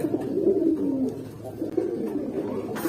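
Pigeons coo softly in a loft with a low, repeated warbling, close by and fairly steady, with faint rustling around them.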